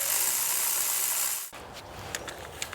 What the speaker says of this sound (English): crack it loose, and get the rest of it with my electric ratchet